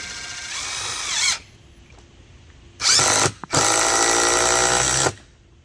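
A RIDGID 18V brushless cordless drill on high speed drives a screw into wood with no pilot hole. One short whine comes first, then a pause, then a longer loud burst as the screw seats. It sounds close, with no talking.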